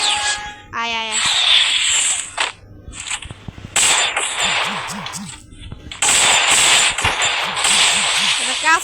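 Video game gunfire crackles in bursts of rapid shots and single cracks, with brief gaps of quieter game sound and a short rising tone near the start.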